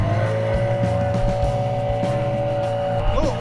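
A 9.8 hp outboard motor running on a loaded boat, a steady droning engine hum held at constant pitch throughout, close and fairly loud.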